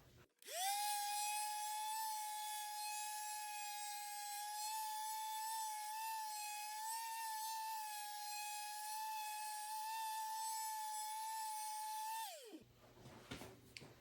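A palm sander roughs up a surface while assembling ICAT flexible shoulder straps, giving one steady, close, high-pitched whine that runs for about twelve seconds and then winds down.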